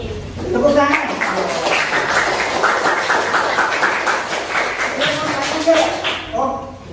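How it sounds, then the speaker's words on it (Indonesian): Students applauding in a madrasah classroom during a Qur'an and Hadith lesson, a brisk burst of many hands clapping that fills the middle, with voices speaking at the start and end. "Tepuk tangan."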